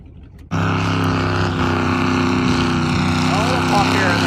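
A 318 V8 engine in a 1998 beater car revs hard and loud after a sudden start, a sustained rough roar with a rising pitch sweep, while people talk over it.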